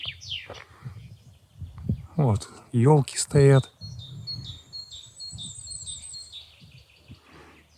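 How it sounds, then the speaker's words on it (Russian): Birds chirp and sing in a mixed coniferous and deciduous forest in Germany around ten in the morning. Brief high calls come mostly in the middle and later part, under and between a man's speech. "в основном слышно, конечно, птиц"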